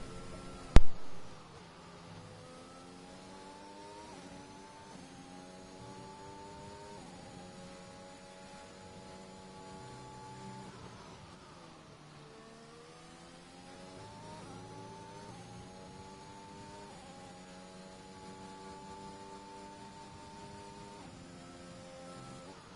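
Onboard engine of a Mercedes racing car in a Bahrain round of a racing video game, a steady mid-pitched whine rising and dropping through gear changes, with a sharp click at the start and no talk.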